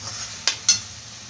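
Tomatoes cooking in a pan for chole aloo sabzi, a faint low simmer with two quick sharp stirring scrapes in close succession.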